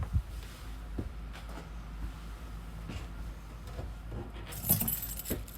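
Keys for a 2023 Jayco JayFlight 294QBS travel trailer's doors jingle and clink close by in scattered bursts, the brightest jangle near the end, with no one speaking.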